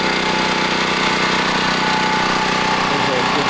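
A Generac portable generator running at a toy hauler, a steady close engine drone with constant mechanical hum and buzz, with no pauses.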